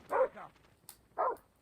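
Dog barking in the Call of Duty Mobile video game: two clear bark bursts, the first a quick double bark, the second after a short pause, fairly close with a faint click between them.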